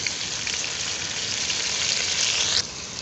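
Chopped tomatoes hitting a pan of frying curry in a Gilgit Baltistan village kitchen, a loud continuous sizzle heard close up that drops off sharply just before the end.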